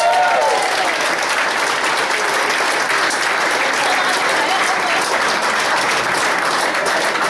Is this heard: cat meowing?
no